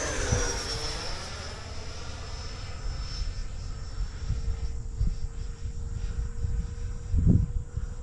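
A model jet airplane flies at about half throttle, its steady whining engine drone sweeping down in pitch as it passes and then holding a level tone, carried over moderate outdoor background noise with a brief thump near the end.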